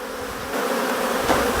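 Honey bees of a Saskatraz colony drone around a Flow Hive 2 Plus, a dense close buzz that holds steady and loud throughout with no talk over it.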